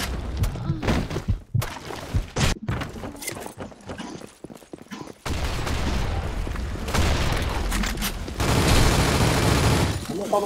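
Video game gunfire in a multiplayer shooter match, scattered sharp shots and bursts with louder sustained firing later, mixed with game noise and people talking over it.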